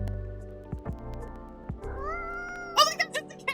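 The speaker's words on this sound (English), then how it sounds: "Oh my god, that's a cat!" A cat meows several times in quick succession near the end, close and fairly loud, with a voice heard earlier.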